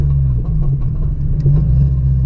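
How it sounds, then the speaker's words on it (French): A sporty car engine runs steadily at close range, a loud deep rumble with a slight rise in revs partway through, heard alone without voices. "un moteur de sport, un bruit sport"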